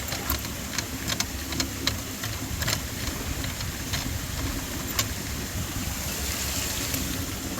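A sprinkler pump runs steadily while water rushes and splashes through an opened valve, a continuous broadband wash with scattered faint clicks throughout.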